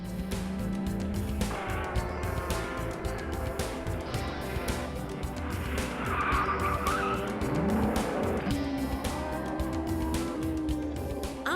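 A fast racing car roars continuously with engine revs rising and falling, tires squealing and skidding loudly through the middle, with no talk over it.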